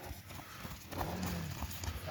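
Draft horse mare's hooves clip-clop on slippery ground in an uneven rhythm, moderately faint, with low rustling in the background and no voices.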